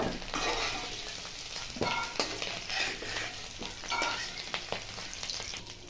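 Potatoes fry in hot oil with a touch of turmeric for raw banana kofta curry, a steady crackling sizzle broken by scraping stirs and a few sharp spatula knocks.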